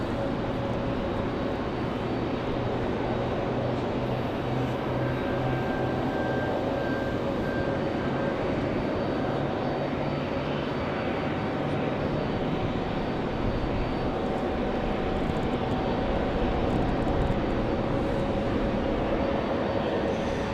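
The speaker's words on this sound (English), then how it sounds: "That's the A319 that's getting ready to head back to Washington Dulles" Airbus A319 airliner at Raleigh-Durham International in the rain, preparing to depart for Washington Dulles: a steady, loud broadband engine roar that holds evenly throughout with no talk, rain noise blending into the wash.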